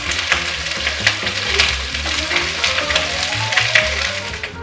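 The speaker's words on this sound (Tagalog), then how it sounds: "piprito natin siya siguro ng mga 5 minutes or until maging brown ng konti yung chicken" Chicken pieces fry in a pan with a steady, loud sizzle and crackle, and a few stirring scrapes come through. The sound is close and continuous, with no talk over it.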